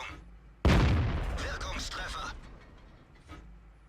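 A 75mm tank gun fires in a World of Tanks battle as the E 25 engages a Tiger, one loud sudden boom with a long decaying rumble and mechanical clatter, then a softer clank, under someone talking.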